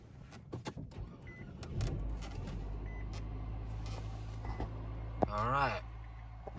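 A 2020 Nissan Versa engine starts after a few clicks and settles into a steady low idle close by, with a short electronic tone near the end and people talking briefly.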